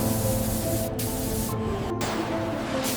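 A steady hissing spray runs nonstop as anti-reflective coating is applied to solar cell wafers in a modern factory, with brief dips between bursts and a faint machine hum underneath.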